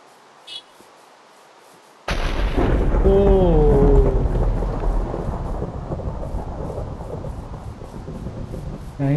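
Thunder cracks and rolls in a Minecraft rainstorm, a sudden loud burst followed by a sustained rumble and steady rain hiss, with a voice briefly speaking over it.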